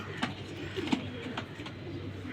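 Pigeons coo softly close by, low throaty calls repeating in a relaxed rhythm with a few light wingbeat or shuffling sounds.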